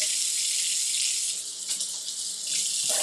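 Water runs steadily from a kitchen sink tap while hands are washed under it, a continuous close hiss with slight changes in the flow.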